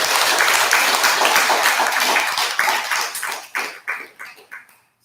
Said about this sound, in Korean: 이럴 때 박수를 쳐야 되는 거예요